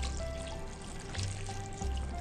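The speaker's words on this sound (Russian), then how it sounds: "Дальше заливаем чистую шелуху водой комнатной температуры" Room-temperature water pouring steadily over clean onion skins in a pot for dyeing Easter eggs, a soft continuous splashing and trickling close by with no talk.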